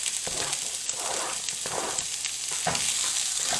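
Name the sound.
onions, garlic and cauliflower sizzling while stirred in a pan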